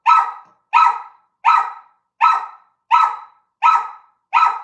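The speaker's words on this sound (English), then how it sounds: "Yes, neighbors have dogs and they walk them sometimes." Neighborhood dogs barking outside, seven evenly spaced sharp barks in a steady rhythm, loud and clear with silence between each.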